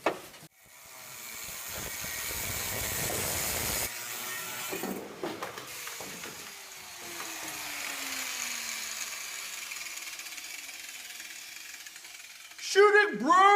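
Power saw cutting through the body of a VW Jetta four-door during a two-door wagon conversion, a long continuous rough grinding buzz close by that fades near the end, followed by brief voices.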